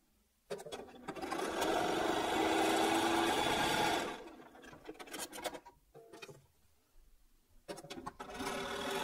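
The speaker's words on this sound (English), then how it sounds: "we're going to sew either side of that" A sewing machine stitches fabric for a quilt block, running in a loud steady burst for several seconds, then in shorter stop-start runs with pauses between.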